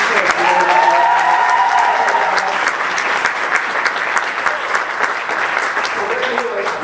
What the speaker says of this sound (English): Give a round of applause for our new director.